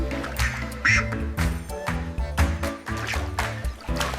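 Rubber duck quacks pop up over bouncy music, with some watery splashing sounds mixed in.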